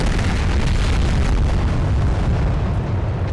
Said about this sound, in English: Alright, so we're about to blow up the meth lab here. There's the trophy. There's the explosion.